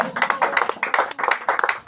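A church congregation claps together in quick rhythmic bursts, close and lively, praising the Lord during a sermon.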